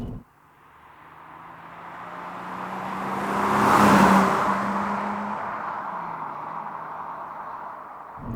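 A naturally aspirated petrol V6 in an MG ZS 180 with a manual gearbox runs and revs, a steady hum swelling to a louder peak midway and then easing back down, with no talk over it.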